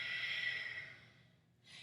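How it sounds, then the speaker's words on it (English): A long, soft exhale through the nose during a yoga session fades away, then a fresh breath begins drawing in. The sound is quiet and close, with no talking over it. "Take a breath and exhale."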